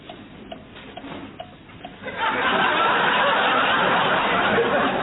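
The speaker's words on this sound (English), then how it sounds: "Did I hear something ticking?" A cuckoo clock ticks in a slow, even rhythm, faint and near, before a loud broad hiss abruptly drowns it out partway through.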